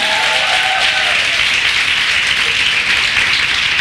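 A crowd of women at a church conference breaks into loud, sustained applause, a dense and even roar of clapping with no voice over it.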